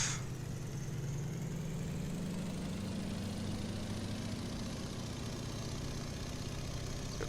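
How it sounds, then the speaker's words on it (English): Boeing-Stearman Model 75 biplane engine in the FSX/P3D flight simulator game, throttling up for the takeoff roll: a steady, droning engine whose pitch slowly rises as power increases, heard alone. "we shall do our takeoff roll now. Throttling up."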